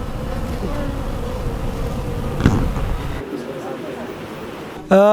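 Bees buzzing steadily around a rural spot in Bharmour, Himachal Pradesh: a continuous close drone of many insects, with brief outdoor noise and a tonal snippet near the end.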